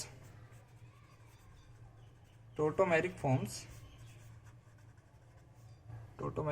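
Chalk or marker scratches across a board in a short burst of quick strokes during a chemistry lecture on tautomerism, with a voice heard quietly around it.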